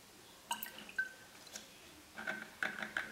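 Fitoverm pesticide solution trickles and drips into water for treating houseplants, a few small splashes and gurgles scattered across a quiet background, then a denser run of liquid sounds near the end.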